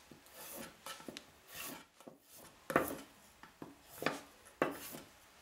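Bark River convex ground knife being sharpened, with repeated rasping strokes scraping along the blade in an uneven rhythm of short bursts, close and moderately loud with no talk.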